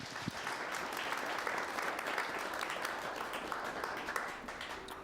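An audience at a university interview event bursts into steady, continuous applause, a dense wash of clapping from a full room that holds evenly for several seconds.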